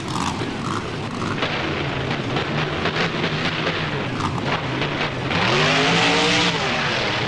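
Monster truck in the BeamNG driving game doing freestyle jumps, wheelies and landings over cars in a stadium arena, a loud continuous engine roar with rising revs and heavy impacts, no talk.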